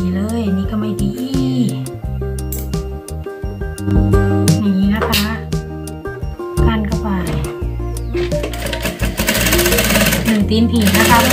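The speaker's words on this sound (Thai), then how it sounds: "เย็บไปเลยค่ะหนึ่งตีนผีค่ะ" Sewing machine stitching a bag with a presser foot, loud steady mechanical chatter in bursts with brief pauses, someone talking over it.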